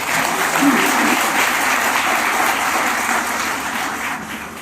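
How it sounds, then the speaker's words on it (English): A room full of people applauds homeopathy students at a homoeopathic medical college in Prayagraj, a dense, even wash of clapping held at a steady loudness throughout. "A big round of applause for all the students with the bright face."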